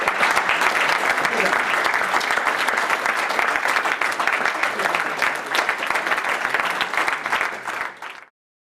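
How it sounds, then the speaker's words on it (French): Audience applause for an actor, a sustained dense roar of clapping at steady loudness for about eight seconds before cutting off abruptly. "Alors, on l'applaudit."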